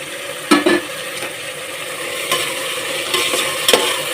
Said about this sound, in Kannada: ಈಗ ತರಕಾರಿ ಹಾಕ್ಕೊಂತ ಇದ್ದೀನಿ